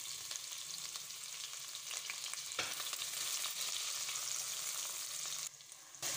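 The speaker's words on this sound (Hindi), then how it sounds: "ऑयल गर्म हो गया है, अब हम इसमें 2 प्याज ऐड कर लेते हैं।" Two onions fry in hot oil with a dense, even sizzle and soft stirring underneath; the hiss holds steady and dips briefly near the end.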